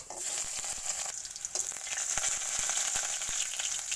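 Panch phoron, a little garlic and onion frying in hot oil in a heated kadai for a Bengali taro-stem and water spinach chorchori, giving a steady loud sizzle throughout with light clicks of stirring and no voices.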